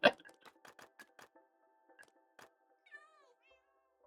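A cat meows in a modded Minecraft cat cafe: a sharp first call, then a run of short, quick, evenly spaced mews and ticks, and later a few faint drawn-out meows, close and clear with no talk.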